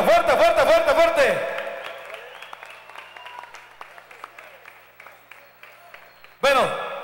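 A crowd at a live salsa concert in Puebla bursts into applause after a sung or amplified vocal phrase, the clapping carrying on and slowly thinning over several seconds before a loud voice cuts back in.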